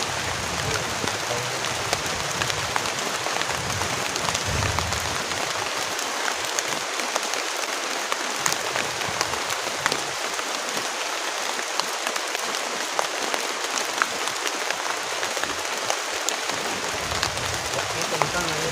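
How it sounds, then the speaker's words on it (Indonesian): Heavy rain pounds a campsite and tent in a dense, constant roar of drops that stays loud and close throughout a storm. "karena hujannya deras banget teman-teman, kita harus benar-benar cepat-cepat pasang tendanya"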